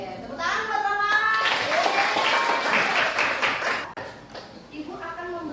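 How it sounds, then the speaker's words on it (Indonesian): Schoolchildren clap together in a classroom lesson, a loud burst of rhythmic applause that fades near the end, with a teacher's voice and children's chatter around it. "tepuk tangan buat Mama"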